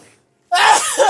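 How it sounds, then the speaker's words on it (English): One sharp sneeze bursts out loudly and close after a short silence. "I was battling sneezes."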